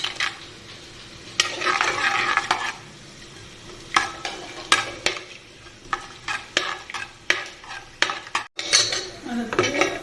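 Cashews being roasted and stirred in a pan give repeated sharp metal scrapes and clinks of a spoon against cookware over a light sizzle, irregular and close.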